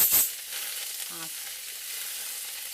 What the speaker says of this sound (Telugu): కొత్తిమీర కొంచెం తొందరగానే ఫ్రై అయిపోతుంది